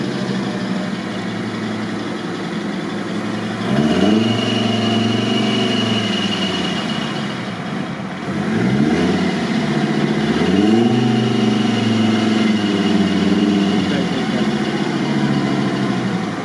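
An off-road vehicle at the Rosomakha-Trophy 2020 event heading toward a swamp, its engine rumbling steadily and rising in a few surges of revving, close and loud throughout.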